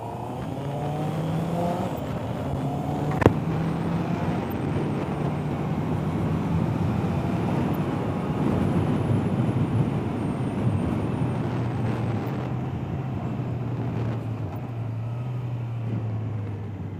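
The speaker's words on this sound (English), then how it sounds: "take you guys on a ride just around the block and let you guys hear this bike" A 2022 Honda CB650R motorcycle engine during a ride, a steady close drone with shifting engine tones and wind rush throughout, no talk.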